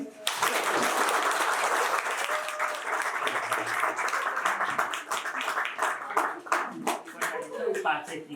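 An audience at a sports club cash award event bursts into loud, sustained applause that thins into scattered individual claps toward the end, with voices speaking and calling out over the clapping.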